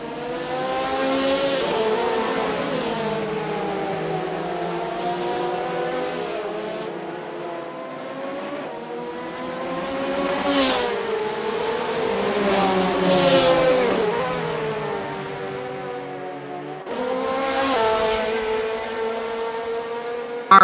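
Race cars from a GT-class sim-racing video game event at Barcelona roar loud and close with layered, continuous engine notes, revving and shifting pitch as the pack brakes and races through corners, with a brief tire squeal, and no talk.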